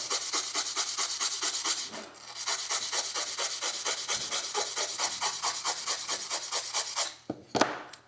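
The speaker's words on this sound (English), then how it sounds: "To clean these guys, you simply brush it across there." A metal file is cleaned by brushing across its teeth, making rapid, rhythmic raspy scrubbing strokes that continue close and loud, with a short pause and a final couple of strokes at the end.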